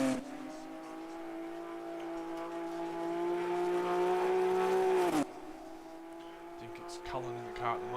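A Hyundai XL class race car at Wanneroo Raceway gives a sustained, rising engine drone as it heads up toward turn 2, then drops sharply, with mechanical clatter afterward and a commentator talking over it.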